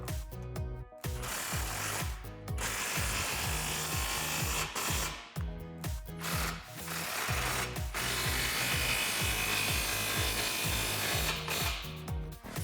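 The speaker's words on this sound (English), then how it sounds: "Now we can tighten our clamps." Ratcheting and power-tool tightening of exhaust clamps on a 2018-2019 Mustang GT cat-back exhaust, loud close bursts of rapid mechanical rattling separated by short pauses.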